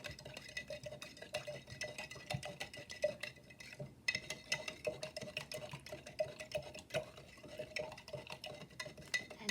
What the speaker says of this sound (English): I'm going to give the blue another stir.